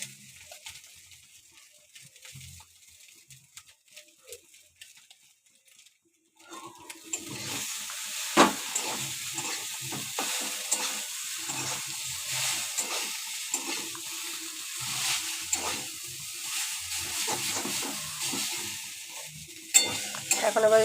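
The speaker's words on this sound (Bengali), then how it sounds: "এখন চলে যাচ্ছে চাউমিনগুলো।" Chowmein noodles land in a hot pan and are stir-fried. After a few quiet seconds a loud, steady sizzle starts and continues to the end, broken by scraping and tossing.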